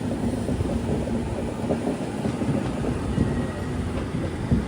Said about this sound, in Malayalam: ട്രെയിൻ ഇപ്പോൾ കോഴിക്കോട് റെയിൽവേ സ്റ്റേഷൻ്റെ 1 നമ്പർ പ്ലാറ്റ്ഫോമിലേക്ക് ഇതാ എത്തുകയാണ്.